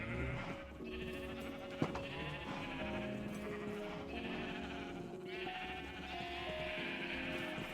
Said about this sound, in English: Come on, sheepy sheeps.